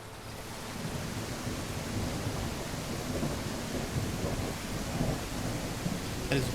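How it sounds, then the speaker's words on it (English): Thunderstorm and rain ambience from a video game: a steady hiss of heavy rainfall with low rolling thunder swelling underneath, loud and continuous with no voices. "thunderstorm, or we can just do rain."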